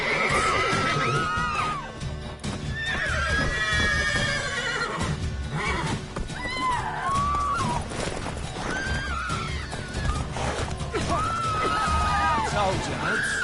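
Horses in The Witcher 3 neigh and whinny repeatedly over roughly thirteen seconds, loud and close, with hoof clops and game voices talking throughout.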